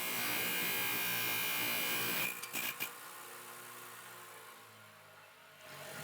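A golf driver shaft trimmed half an inch at the tip in a club build shop: a loud, high-pitched electric cutting whir that stops abruptly partway through, followed by a couple of sharp clunks and a quieter hum.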